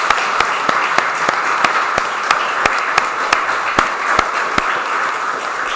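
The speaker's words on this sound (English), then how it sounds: "So just a nice big round of applause for everybody that's managed that" Applause from an awards-night audience, a steady broadband wash of clapping with sharper individual claps standing out, sustained and fairly loud throughout with no talk.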